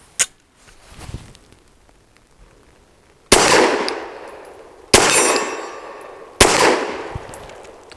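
Older ETS polymer magazine seated into and dropping free from a Sarsilmaz Saricam S 19 pistol, giving three sharp metallic clacks about a second and a half apart after a faint tap near the start, close and alone with no voices.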